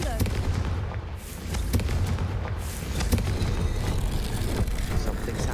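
In the video game Hogwarts Legacy, the Confringo fire spell sets off a run of sharp, explosive booms and crackling blasts, loud and close, with a voice talking faintly underneath.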